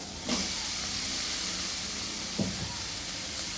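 Tomatoes tossed into a hot frying pan set off a steady, close hiss of sizzling and steam, broken by a couple of brief scraping clunks.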